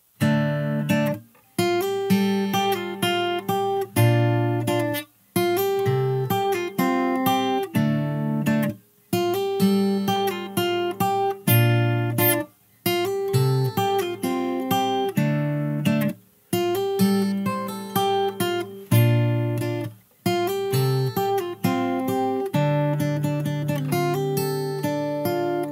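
Fingerstyle acoustic guitar plays the chorus of a song, a steady rhythmic pattern of plucked bass notes and chords with brief pauses between phrases, close and clear without talking.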